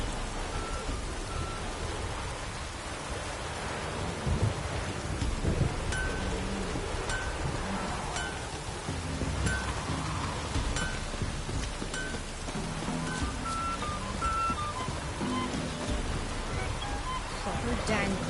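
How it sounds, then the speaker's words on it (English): Heavy rain pours down steadily in The Witcher video game, a dense hiss with low rumbling beneath it, like a storm with distant thunder. "Proper downpour this is."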